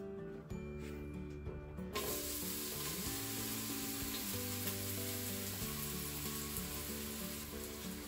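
Diced aubergine sizzles in hot oil in a pan, a steady close-up frying hiss that continues under background music with sustained tonal notes.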